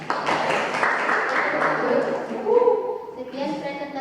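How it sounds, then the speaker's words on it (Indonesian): A classroom audience applauds a student presenting group in a history lesson, clapping from a small crowd that fades as voices rise over it toward the end. "Tepuk tangannya."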